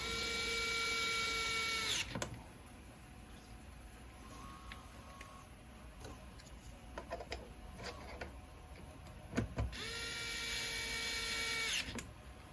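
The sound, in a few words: driving M3x10 bolts into a frame extension bracket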